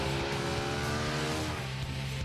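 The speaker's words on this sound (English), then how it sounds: "no motorcycle feels so at home on the Fuda Pass as Ducati's new 1098 Superbike" A Ducati 1098 Superbike runs along the Fuda Pass, its engine holding a steady, close, tonal drone the whole time with no voices.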